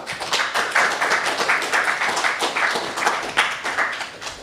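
An audience at a JuliaCon conference session applauds to thank a speaker. The round of many hands is moderately distant and holds steady, swelling and easing slightly.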